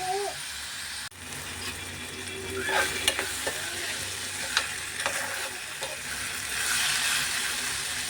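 Chopped vegetables, tomato among them, fry in a pan for a quick curry while being stirred, sounding as a steady sizzle with a sharp knock near the start and recurring scraping strokes that swell louder toward the end.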